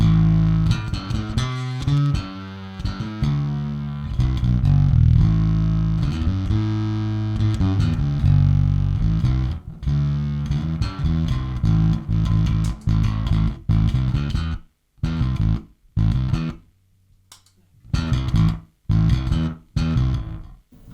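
A bass guitar played through a custom-made chorus-like effect pedal with fuzz added gives thick, distorted sustained notes and chords, loud and upfront, ending in choppy short bursts separated by gaps.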